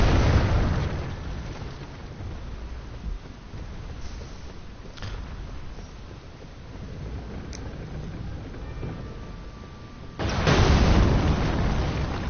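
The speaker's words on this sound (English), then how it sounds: "Bomb! Goodbye!" A bomb blast in Elden Ring, a broad roaring rumble that fills the opening seconds, eases off, then a second heavy burst erupts near the end, loud and close.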